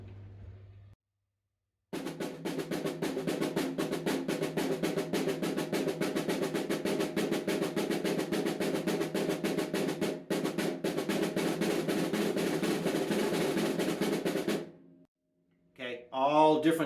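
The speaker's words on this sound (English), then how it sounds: "if someone asked me to do a drum roll in the old days, it would probably sound something like this" A snare drum roll is played unevenly for about thirteen seconds, with missed, buzzed and open strokes giving a rough, inconsistent rattle, close and fairly loud, followed by a brief voice at the end.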